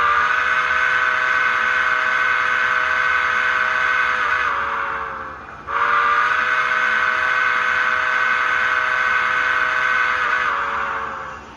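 A model steam whistle for an MTH GS-4 4-8-4 Southern Pacific 4449 plays from its sound decoder, sounding two long, loud, steady chime blasts with a brief break between them and nothing else heard.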